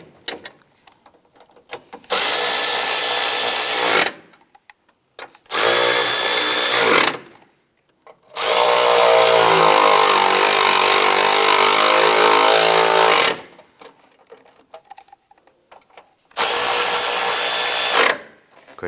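Bolts on the throttle body of a 2008–2013 Nissan Rogue are snugged down with a power tool. Four loud whirring bursts of two to five seconds each are separated by quiet gaps.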